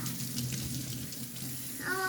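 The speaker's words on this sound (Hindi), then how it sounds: "तो जी अब मैं अपने बेटे के पाँव धो रही हूँ" Running water from a tap splashes steadily while a young boy's feet are washed indoors, a continuous close hiss and patter with a faint tone near the end.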